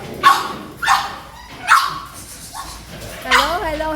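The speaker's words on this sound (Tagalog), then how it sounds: "Meron dito yung pug niya." A pug barks in sharp, repeated bursts about every second, loud and close, with a whiny yelp at the end.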